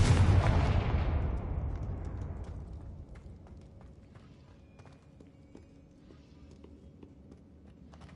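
A Confringo fire spell blast in Hogwarts Legacy on PS5: one loud, booming explosion at the start that rumbles and fades slowly over several seconds, followed by faint scattered clicks and light footsteps.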